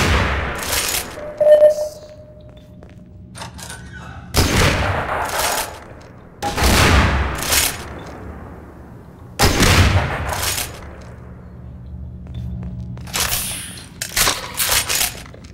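Repeated booming shots from a sniper rifle firing explosive rounds in Garry's Mod, each heavy blast spaced a few seconds apart with a short rumbling tail, loud and close.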